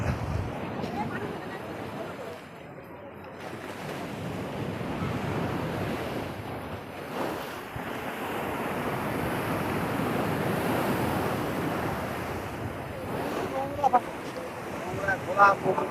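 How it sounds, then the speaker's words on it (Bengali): Arabian Sea waves breaking on the shore in Mumbai, a continuous roaring surf wash with heavy wind noise on the microphone, while people talk nearby. "আরব সাগরের ঢেউটা দেখো খালি"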